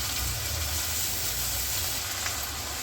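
A spice paste mixed with yogurt sizzles steadily while frying in a pot for chicken soup, with a continuous, even hiss throughout and no voices.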